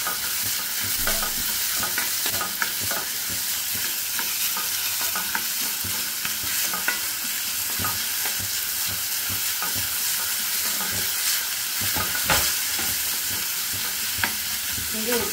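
Onion being stirred while frying in oil, a continuous hiss of sizzling with scraping stirs and occasional spoon clicks, close and steady throughout.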